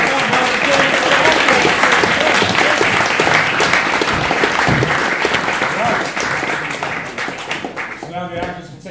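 A theater audience gives a loud, sustained round of applause, dense clapping close by that fades slightly toward the end.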